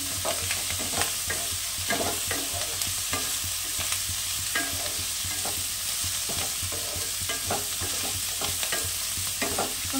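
Potatoes stir-fried with onion and green chili in a pan, a steady close sizzle broken by repeated scraping stirs of a spatula throughout, with no talking.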